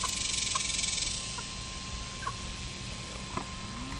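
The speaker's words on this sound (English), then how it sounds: "these are called Rudd Ranger meat chickens" Red Ranger meat chickens cluck in scattered, fairly faint calls across a steady outdoor background hiss, with no talking.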